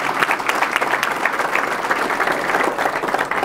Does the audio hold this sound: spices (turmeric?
no